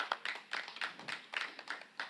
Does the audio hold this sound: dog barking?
no